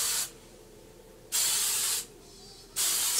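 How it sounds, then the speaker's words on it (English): Three short bursts of hairspray hiss close by, separated by brief pauses of quiet. "So you just take more hairspray and basically do the same thing again."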